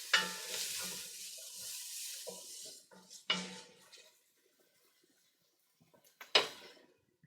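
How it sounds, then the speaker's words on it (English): Spoon scraping browned bits from the bottom of a pot into liquid while deglazing for a mushroom and beef stew, with a few short bursts of scraping and stirring, then near silence and one last sharp clatter. "you're going to use your spoon to kind of scrape up those bits on the bottom and get them into the liquid"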